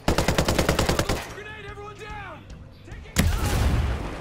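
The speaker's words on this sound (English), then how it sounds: "Grenade." Ghost Recon Breakpoint combat: a rapid string of close automatic gunshots stops after about a second, followed by a quieter stretch with faint voices and then a heavy grenade blast with a rumbling tail.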